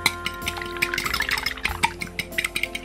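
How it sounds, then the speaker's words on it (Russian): An egg is whisked with a fork on a plate in a home kitchen, giving a quick run of light clinking taps and wet stirring. "Взбалтываем его при помощи вилки вот так."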